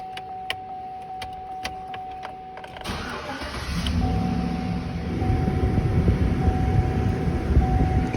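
A car engine starts after a few faint clicks and settles into a steady idle, with the air conditioning fan then kicked up to full blast, a loud continuous rushing that swells over the engine hum.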